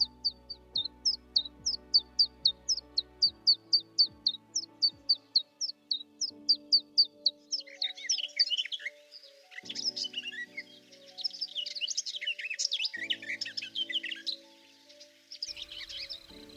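Small birds calling in summer: a rapid string of sharp, evenly spaced chirps gives way to a denser, overlapping chorus of twittering song, fairly close and with no voices present.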